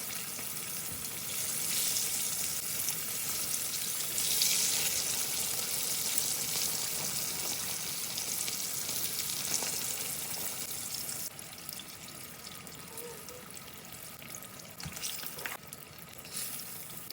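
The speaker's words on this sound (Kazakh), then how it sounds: "Орташа отта қуырып аламыз." Carp fries in oil over medium heat, giving a soft, continuous sizzling hiss that holds steady and fairly quiet throughout, with a few faint clinks.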